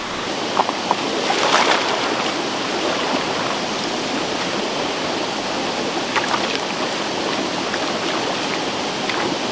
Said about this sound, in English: I'm trying to scatter the yucky water out.